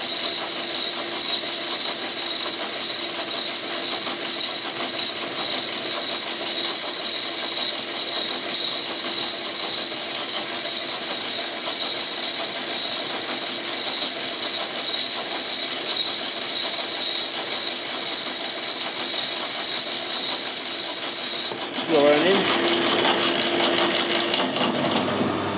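Steady, loud metallic whine and hiss of a lathe cutting a steel blank for a steam fitting, continuing unbroken for most of the stretch before the tone shifts abruptly near the end.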